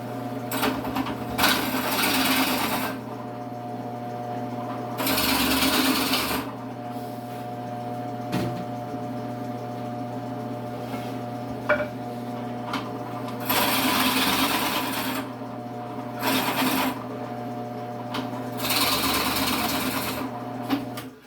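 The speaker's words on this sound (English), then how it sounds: "I've got that my counterbore bit set up on my drill press" A drill press fitted with a counterbore bit cuts shallow recesses in wooden pieces of a shaving horse, its motor humming steadily throughout while several louder grinding bursts of cutting come and go, with no talking.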